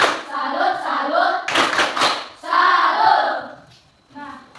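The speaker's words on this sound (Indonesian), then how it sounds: "Tepuk salut." Children performing the tepuk salut clapping game in an Indonesian classroom, with several bursts of rhythmic group hand claps mixed with chanting voices, loud and close.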